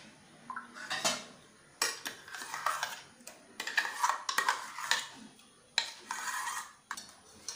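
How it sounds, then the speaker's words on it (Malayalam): A spoon scrapes and clinks against a bowl in irregular bursts while unniyappam batter mixed with mashed banana and rice is stirred, close up and without talking. "ഇതൊന്ന് നല്ലതുപോലെ ഇളക്കിയെടുക്കാം."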